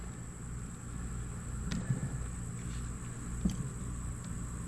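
Honeybees work a small hive colony with a steady, low, close buzzing hum, broken by a couple of brief clicks from the hive.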